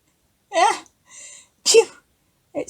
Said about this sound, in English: Someone sneezed.